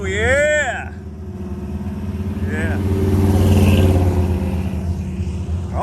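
A Chevrolet Corvette C8 engine revs up and rumbles loudly, the throttle swelling through the middle and easing back, with people cheering and talking over it.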